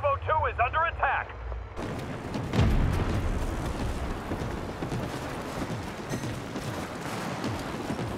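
Airstrike explosions in the online shooter World War 3 set in burning Moscow ruins, a heavy boom followed by sustained rumbling blasts and debris after a brief radio voice line.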